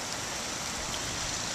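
Hard rain coming down outdoors, a steady, dense hiss of falling water with no breaks, fairly loud and close, with no voices over it.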